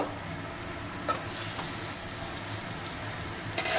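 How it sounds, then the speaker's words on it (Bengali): Pieces of goat mutton sauté in a pan for a spicy mutton curry, giving a steady crackling sizzle with a few brief louder spits and light stirring. "মাটনটা দিয়ে ভালো করে কষাবো"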